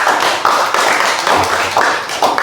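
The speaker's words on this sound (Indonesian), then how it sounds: "Oke, tepuk tangan untuk kelompok 4." A group of people applauds together for a student group in a Catholic religious education class, close and loud, rhythmic clapping in several quick bursts.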